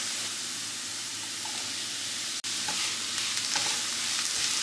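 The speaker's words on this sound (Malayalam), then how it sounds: "ഇനി നമുക്ക് ഇതിലേക്ക് തക്കാളി കൂടെ ഇട്ട് കൊടുക്കാം." Tomatoes sizzle while sautéed in a pan for a quick vegetarian high-protein dish, a steady loud frying hiss throughout, broken by one brief sharp gap and faint stirring clicks.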